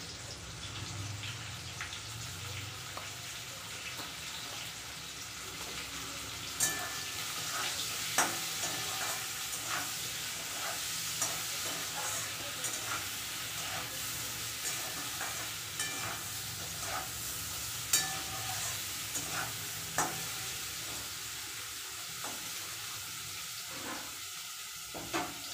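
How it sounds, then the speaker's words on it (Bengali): Bitter gourd seasoned with salt and turmeric fries in a pan with a continuous soft sizzle, broken by occasional sharp scrapes and clicks of stirring, moderately quiet and close. "উচ্ছেগুলো লাল লাল করে ভেজে নিয়েছি।"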